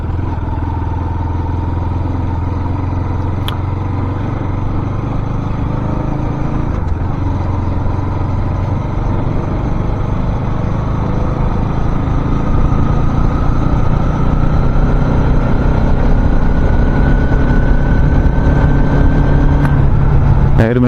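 A sports motorcycle rides along a rough unpaved dirt road, its engine droning loud and steady up close for the whole stretch, with rumbling road noise and occasional clatter.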